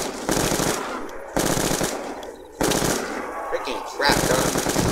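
Automatic gunfire from a weapon in Black Ops II Zombies on the Farm map, sounding as loud, dense repeated bursts with brief gaps between them.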